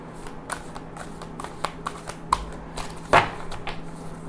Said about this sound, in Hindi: चलिए लेट्स पुल सम कार्ड्स।